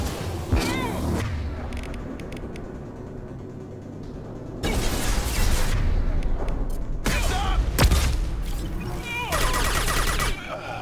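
Heavy gunfire in the Mass Effect 2 shooter game, loud dense bursts and booming impacts that come in waves and swell in the second half, with brief lulls between volleys.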